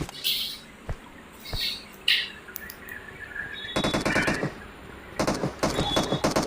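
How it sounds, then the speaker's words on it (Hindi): Gunfire in PUBG Mobile, a few single shots early on, then rapid automatic bursts in the second half, fairly loud against a busy game ambience with faint bird chirps. "एक फायरिंग सुन सकते हो आप वहां पे।"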